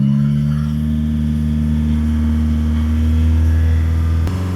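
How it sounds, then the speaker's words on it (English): A 2.2 diesel engine in a Mitsubishi ASX with DPF faults drones at a steady, sustained high speed, a constant loud hum with a brief click near the end. "so we're going to hold the revs now"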